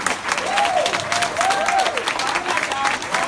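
An audience at a company meeting applauds and cheers for area managers, dense clapping carrying steadily throughout with whoops rising above it, while a voice speaks over the crowd.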